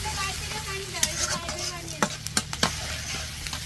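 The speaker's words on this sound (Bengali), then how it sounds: "আমাদের রাঁধুনি বড় শেফ খিচুড়ি রান্না করতেছে।" Khichuri cooking in a pot over a gas flame in a village setting, with a steady sizzle and bubbling under several sharp scraping stirs of a spoon against the pot, close by, with no talking.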